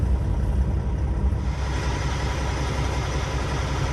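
A heavy truck engine idles steadily with a low, continuous rumble, close by and unchanging, with no voices.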